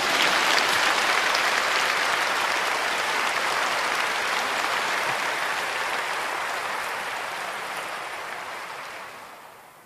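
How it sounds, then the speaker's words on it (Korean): A church congregation at a Korean diaspora gathering applauds in sustained, dense clapping that fills the hall, loud and even for nearly ten seconds before tapering off at the end. "지금 박수쳐."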